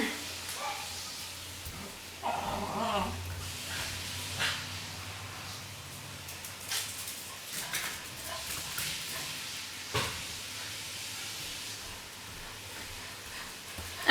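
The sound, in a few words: dog barking and whimpering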